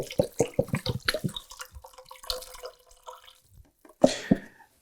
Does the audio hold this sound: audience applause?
no